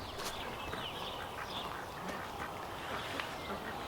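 Ducks quack faintly in a garden that chickens also roam, with scattered bird calls over a steady outdoor background and no talk.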